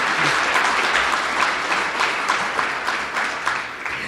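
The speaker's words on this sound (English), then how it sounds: "Please give him a round of applause." An audience at a university ethics-in-leadership talk at CSUB welcomes an adjunct professor and police chief with loud, sustained applause, a dense wash of clapping that stays level throughout.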